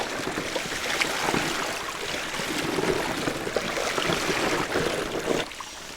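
A bicycle rolls through shallow river water on the Desna, tires swishing and splashing in a steady continuous wash, close and moderately loud, with no speech.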